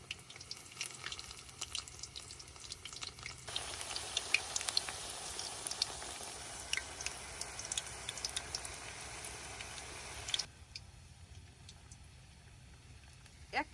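Potato fritters (aloo bora) fry in hot oil with a soft, continuous sizzle and crackle. Occasional light taps and scrapes of a stick come through, quiet and close, with the frying swelling for a stretch before dropping back.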